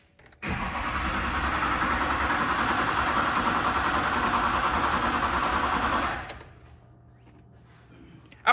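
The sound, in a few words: Duramax diesel truck engine cranking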